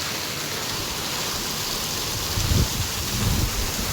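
Steady heavy rain pours continuously with ongoing wind, with a low rumble swelling near the end that could be distant thunder.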